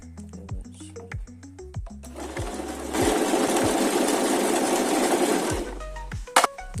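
A Singer sewing machine, model S M 0 24, stitches on its own, starting with a few short separate needle strokes and then running into a steady, loud, continuous whir for a few seconds before slowing and stopping.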